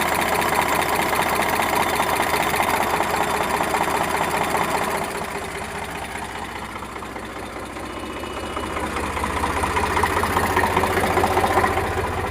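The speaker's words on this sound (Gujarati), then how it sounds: "પેટી પેક એન્જિન છે." A tractor engine with a new oil fill idles close by with a loud, steady diesel chug and rattle, briefly easing lower in the middle before rising again.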